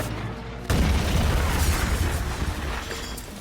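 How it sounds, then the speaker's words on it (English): A sudden loud blast erupts and rolls on as a dense, rumbling roar that slowly fades. "causing a massive explosion."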